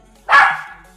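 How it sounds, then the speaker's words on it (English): A single loud, close dog bark indoors, one sharp bark that fades quickly, with no talking over it. "And my dog is barking, I don't know why."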